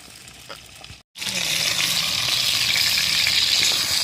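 Flat beans fry in a pan with a loud, continuous close hiss and sizzle that surges after a brief silent gap near the start, no talking.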